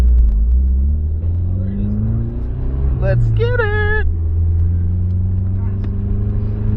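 The 1JZ-swapped Nissan S12's engine rumbles at idle, then gives a brief sharp rev climbing in pitch around the middle before settling back, with people talking inside the car.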